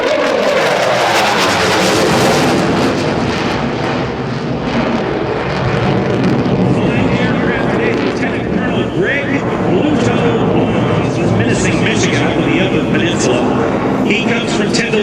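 A QF-4E Phantom jet drone flying an air show demonstration, a loud continuous roar sweeping across, with an announcer speaking over it on a public address system.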